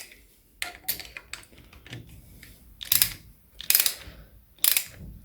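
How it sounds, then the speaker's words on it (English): Socket wrench tightening stator stud nuts on a Triumph Trident T160 engine, a series of sharp clicking ratchet bursts at irregular intervals, close and fairly quiet between strokes. "I'll tighten the stator studs up"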